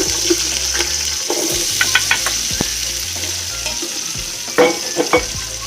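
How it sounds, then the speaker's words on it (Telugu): Sliced onions fry in a pan of hot oil with cinnamon stick and cloves, giving a steady, close sizzle with occasional stirring scrapes and small crackles throughout. "దాల్చిన చెక్క, కొన్ని మొగ్గలు వేసుకొని తర్వాత ఆనియన్ వేసుకున్నాము. అవి వేగుతున్నాయి."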